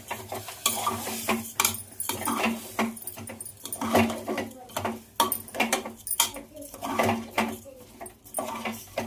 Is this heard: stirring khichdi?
yes